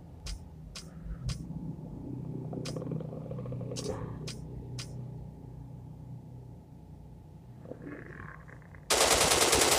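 Gunfire from a weapon in the video game Zombie Evil Horror 4: seven or so sharp shots in quick, irregular succession over a low engine-like rumble, with a voice talking throughout, ending in a sudden loud, noisy blast.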